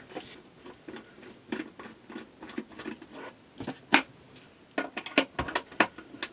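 Someone works a screwdriver while taking apart a cheap ultrasonic cleaner, producing a series of small metallic clicks, scrapes and taps at an uneven rhythm, close and fairly quiet.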